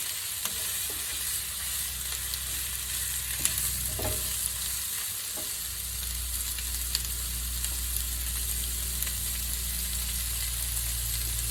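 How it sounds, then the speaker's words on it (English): Sliced smoked, cooked sausage heating in a pan with broccoli: a steady, close sizzle and crackle runs throughout, with occasional stirring scrapes. "just cook it until it's hot, because it's already a smoked, cooked sausage"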